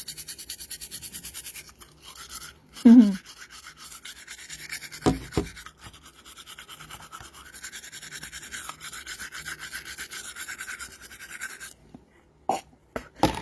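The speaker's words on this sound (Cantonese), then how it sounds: "我刷牙啊！" A toothbrush scrubs teeth in quick, steady back-and-forth strokes, close and fairly soft, continuing for most of the stretch before stopping near the end, with no talking.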